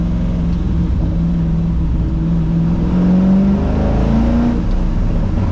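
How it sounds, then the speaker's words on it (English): The LS3 V8 engine of a 1971 Ford F-100 restomod pickup drones steadily from inside the cab, its pitch climbing and dipping as the throttle opens and eases, loud and rumbling. "Oh, it sounds so good off throttle."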